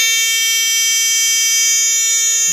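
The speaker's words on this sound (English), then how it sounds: "so it has stopped the train automatically and the buzzer is sounding." The obstacle alarm buzzer on an auto metro train model project sounds continuously after the train stops automatically, a loud steady harsh electronic drone heard alone.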